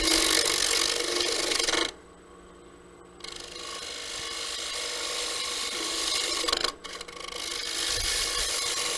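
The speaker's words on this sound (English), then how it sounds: "With this tool, I can still get that bevel rubbing cut here." A woodturning tool takes a light bevel-rubbing cut on spinning wood on a lathe, giving a loud, close, continuous rasping hiss that stops briefly twice before the cut picks up again, with no talking.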